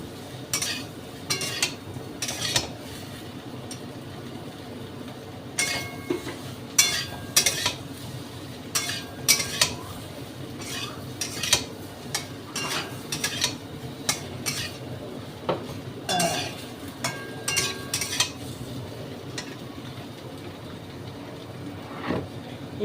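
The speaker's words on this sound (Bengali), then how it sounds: "ওটাকে ঘিয়ের সাথে নাড়ছি, একটা ফুল আঁচ করে দিয়েছি।" Potatoes are stirred in ghee in a pan over a full flame, with a metal spoon scraping and clinking against the pan in irregular bursts over a steady low background hum.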